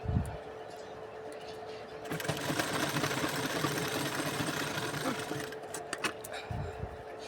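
A sewing machine stitches a seam on a katori blouse, its rapid mechanical whirring starting about two seconds in and running steadily before stopping, with soft handling sounds around it.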